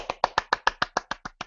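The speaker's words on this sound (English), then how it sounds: "that was me applauding" A single person clapping in applause, about ten crisp, evenly spaced claps in quick succession, close and alone, fading slightly toward the end.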